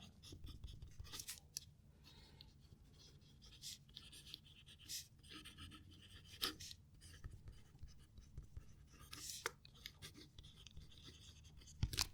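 A TWSBI Eco fountain pen writes across paper, giving soft, faint scratchy strokes in short bursts with pauses between, quiet and close against a low steady room hum.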